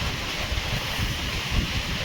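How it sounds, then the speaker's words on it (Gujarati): Strong night wind gusting at 60–70 km/h, steady broadband rushing roar with low buffeting rumble, continuous and fairly loud with slight surges, no voices. "60-70ની સ્પીડે પવન ફેંકાઈ રહ્યો છે મિત્રો."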